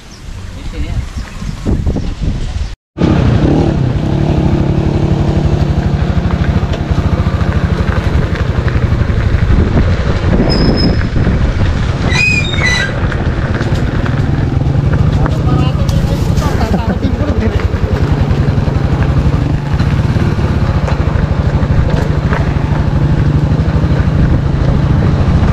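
A motorcycle with a sidecar rides along, its engine droning loud and steady for most of the stretch under heavy wind buffeting after a brief dropout near the start.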